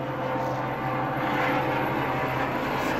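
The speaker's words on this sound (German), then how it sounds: "ist ja wieder ein Helikopter hier" An ADAC rescue helicopter passes overhead outdoors, a steady broad engine and rotor drone with a low hum, continuous and fairly loud throughout.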